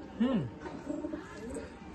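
Pigeons in a home loft give a faint low coo near the start, followed by softer murmuring coos against quiet background noise.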